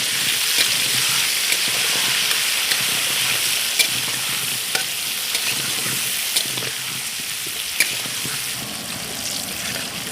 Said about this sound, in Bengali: আর দিয়ে দিচ্ছি হলুদ গুঁড়ো এবারে লাল লাল করে একদম ভেজে নেবো আলুগুলো